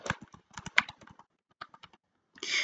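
Close, crisp keyboard typing as an email and password are entered, quick bursts of keystrokes separated by short pauses, ending in a brief louder clatter.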